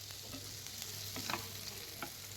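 Cauliflower curry ingredients fry in hot oil, a faint steady sizzle with occasional soft stirring scrapes and light pops, close and alone.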